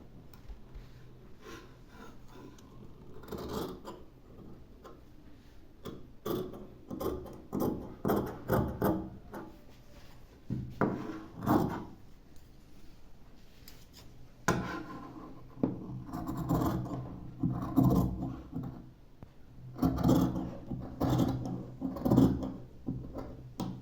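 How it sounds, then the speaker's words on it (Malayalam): Scissors cutting the back piece of a churidhar top from fabric, with irregular bursts of snipping and rustling cloth close by, separated by brief pauses. "നമ്മൾ ബാക്ക് പീസിന് കട്ട് ചെയ്യാം."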